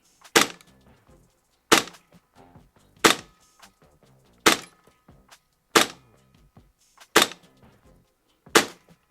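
An ASG Hera Arms H22 gas blowback airsoft rifle fires seven sharp single shots at steady intervals of just over a second, each a crisp close crack with the action's clack and a short tail, loud against near silence between.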